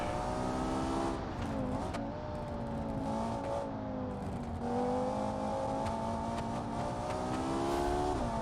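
A V10 supercar engine in the BeamNG.drive racing game revs hard, its pitch climbing and falling through gear changes as the car accelerates along a track, loud and continuous with no talking.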